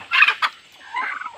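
A turkey hen gobbles among free-ranging chickens in a farmyard, two quick rattling bursts followed by a softer trailing warble, close and distinct.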